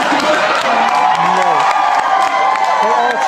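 An audience at a college senior prank play cheers and claps loudly, with whoops and shouting voices in a dense, continuous crowd roar.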